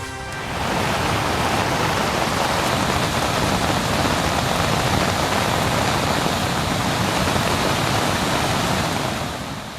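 Heavy rain falling over villages around Thalavadi in Erode district, a steady, dense roaring hiss that holds at a constant level for the whole stretch with no voices.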